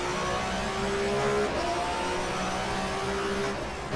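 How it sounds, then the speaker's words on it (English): Racing cars roar in the GTR2 video game, with BMW and Ford touring cars in the 1994 German Touring Car Cup at Zandvoort. The engines keep up a loud, continuous droning whine that holds steady throughout, with no voices. "Raymond Coronel up the inside of the Ford"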